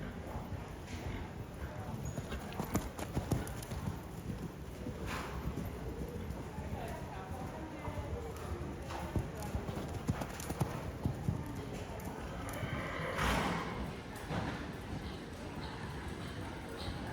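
Horses cantering in a show ring at a horse show, with steady rhythmic hoof beats from several animals on soft footing at moderate distance, as an announcer and other voices speak over them.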